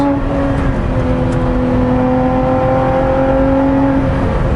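A 2017 Lotus Exige Cup 430 engine drones loudly and steadily from inside the car while driving, a sustained mechanical roar with shifting engine tones and no voices.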